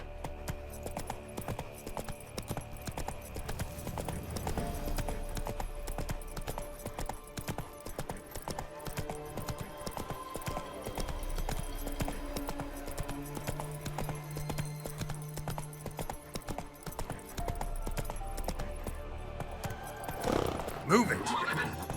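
Roach, a horse in The Witcher 3, gallops with steady rhythmic hoofbeats under game music and ambient effects, mid-distance and moderately loud, with a voice speaking briefly.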